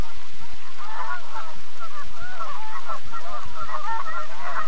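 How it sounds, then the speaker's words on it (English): Giant Canada geese honk loudly and continuously in a prairie setting, many overlapping nasal calls forming a dense chorus over a steady noisy background with occasional low thumps. "the prairie skies will resound with these familiar calls of the giant Canada goose"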